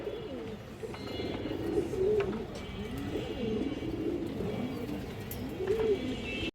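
A female pallar-line pigeon coos repeatedly up close, rolling throaty calls recurring every second or so over a steady background murmur.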